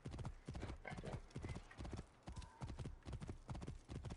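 Horse hooves clip-clopping in a video game while riding with a sword, a fast steady rhythm of close, crisp hoofbeats with a brief neigh and faint game voices underneath.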